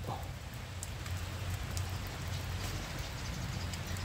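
Rain falling over a chili pepper garden, pausing a spraying session, a steady moderate hiss of drops with occasional sharper patters on nearby surfaces, even and unbroken, no speech.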